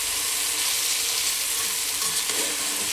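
Vegetables stirred in a hot frying pan give a steady, close, broadband sizzle with faint scraping underneath, continuous and fairly loud for the whole stretch with no talking.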